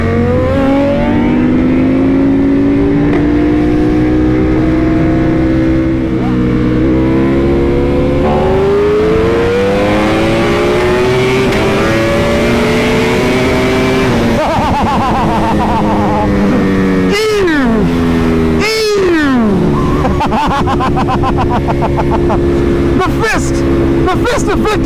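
BMW M 1000 RR motorcycle fitted with a full exhaust canister, its engine note rising and falling through sustained revs, then two sharp blips near the end, loud and close with faint talk underneath.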